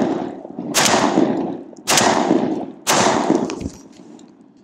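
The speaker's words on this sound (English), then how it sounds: "we'll put all four rounds of buckshot into it" Three loud, close shotgun blasts of buckshot strike an armor plate, spaced about a second apart, each a sharp crack with a ringing impact that decays into the next.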